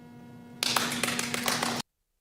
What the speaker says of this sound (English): the slow clap was the best